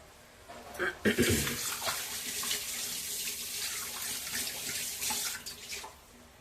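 A small glass of water is poured into a pan of cucumber and dried prawn curry, a brief gush followed by gentle running and trickling sounds.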